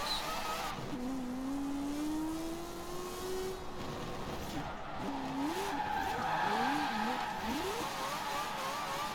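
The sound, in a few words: car brake drifting with tire squeal in Forza Horizon 4 video game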